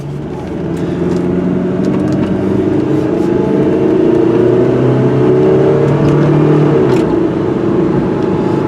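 A 1995 Pontiac Grand Am SE Quad Coupe accelerating up to speed on the road, engine note climbing steadily through gears with rising drone from inside the cabin, loud and continuous after a quieter first second, no talking.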